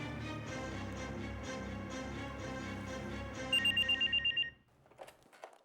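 A telephone rings in a repeated pattern of bright rings that pulse steadily, ending in a short rapid trill before it cuts off and faint handling noises follow.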